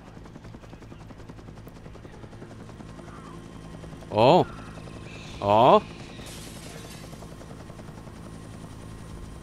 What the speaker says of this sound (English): they're gonna take down the chopper